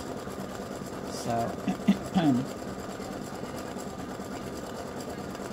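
An embroidery machine stitches free-standing lace pieces for a gingerbread house in a steady, fast mechanical whir, with a few brief louder clunks partway through and a voice speaking once.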